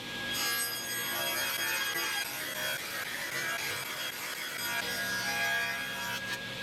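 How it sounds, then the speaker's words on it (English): Table saw cutting wooden strips to final width for a chessboard, a continuous loud whine and rasp of the blade through wood, steady throughout with no speech. "Next, I could lower the blade and then cut each of the strips I'll use in the chessboard to their final widths."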